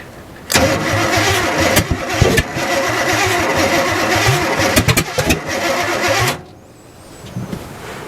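An abandoned 1967 GMC truck engine cranks loudly in one long sustained burst with rough, uneven pulses, then cuts off, leaving quiet background.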